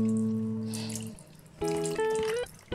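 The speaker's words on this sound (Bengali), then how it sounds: "এবার আমি ফাইনালি আরেকবার এটাকে ওয়াশ করে গরম জল দিয়ে একটুখানি ভিজিয়ে রেখে" Hot water runs and splashes over raw meat being washed in a home kitchen, with a tonal tap flow that stops, then restarts in close, loud gushes.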